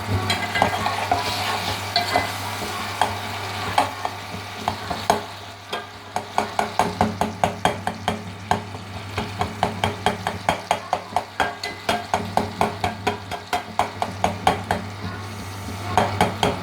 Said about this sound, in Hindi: टमाटर की भुनाई हो रही है। खूब अच्छी तरीके से इसको चमचे से बिल्कुल मैश करना है